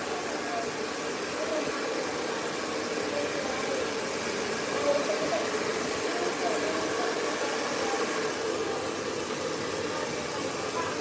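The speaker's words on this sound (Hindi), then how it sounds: "देखो यहाँ पर मुझे आगे से बाउंस चाहिए, इसलिए हम आगे से ब्लो ड्राई कर रहे हैं" A hair blow dryer blowing a woman's long hair from the front, producing a constant loud rushing whoosh of air throughout.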